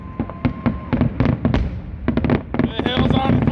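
Rapid bursts of Fourth of July fireworks bang and crackle in quick irregular succession, loud and close, with voices talking and cheering underneath.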